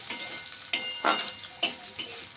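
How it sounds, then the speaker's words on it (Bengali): Onion, garlic and green chilies stir-fried in a pan: five distinct scraping stir strokes in an uneven rhythm over a light sizzle, close and clear, with no voices. "পেঁয়াজ রসুন আর কাঁচামরিচ নেড়ে নিব।"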